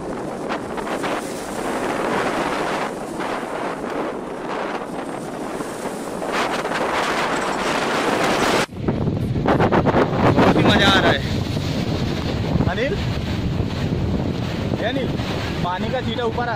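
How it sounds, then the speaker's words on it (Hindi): Strong wind buffets the microphone outdoors at the Mumbai seaside, a loud continuous roar with gusts, while someone talks over it throughout. "बहुत ही कमाल की हवा चल रही है"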